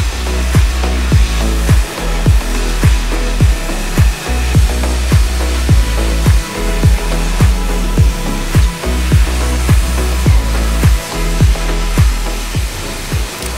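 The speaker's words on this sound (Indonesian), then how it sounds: "Jadi kita bersihkan, kita high pressure cleaner, kita cuci, kita sikat hingga benar-benar bersih dan wangi lagi." A high-pressure cleaner sprays a rubber car floor mat from a Honda CR-V, giving a loud, continuous motor drone and spray hiss with a steady pulsing rhythm and no speech.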